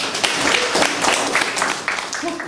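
Children clap together in a primary school classroom, a dense, steady round of applause filling the whole short stretch at close range.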